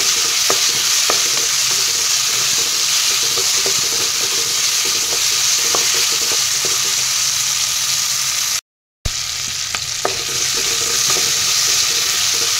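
Ginger, garlic and chili paste sizzles steadily in hot oil with onions while being stirred for a chicken curry, a continuous loud frying hiss with scattered spatula scrapes and a brief dropout near the end.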